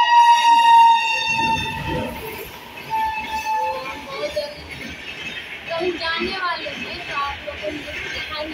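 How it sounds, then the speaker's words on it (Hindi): A passing train headed for Bombay sounds its horn loudly at the start, then rumbles along steadily, with people talking and children's voices mixed in. "ट्रेन जा रही है उसी बॉम्बे।"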